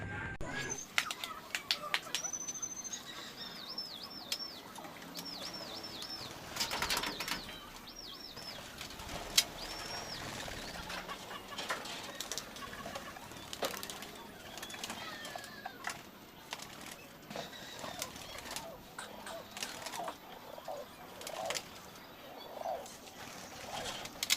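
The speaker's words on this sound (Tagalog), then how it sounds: "Ayan na mga ibon natin. Guys. Bilipad na." Pigeons coo softly among bursts of wing flapping and scattered chirps, with rustling and clattering around them.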